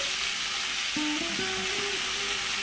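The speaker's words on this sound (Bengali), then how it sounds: "আমড়াগুলো ভেজে নেব।" Hog plums frying in oil with turmeric, a steady broadband sizzle filling the whole stretch, close and even, with faint tonal squeaks from the pan over it.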